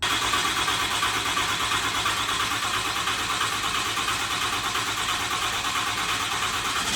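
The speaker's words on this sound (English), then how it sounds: "Lord, please let this truck start." A truck engine fitted with a newly installed Monster Ram intake runs loud and close, a steady dense rumble holding evenly throughout with no voices.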